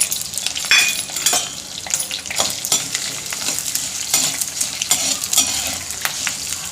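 Coriander seeds fry in sesame oil in a hot pan, crackling and sizzling up close while being stirred, with irregular scraping bursts and pops and no talking.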